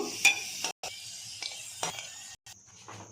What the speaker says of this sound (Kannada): ಇದನ್ನು ಕೆಂಪಿಗೆ ಹುರ್ಕೋಬೇಕು.